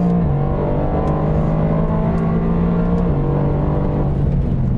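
A 2019 Mercedes-AMG GT R Pro engine roars loudly at full throttle on a race track, its pitch climbing steadily, briefly dropping at a gear change, then rising again.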